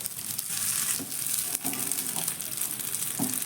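Chicken pieces frying in oil sizzle steadily with a continuous hiss, broken by a few soft clinks and stirring taps, close and moderately loud with no voices.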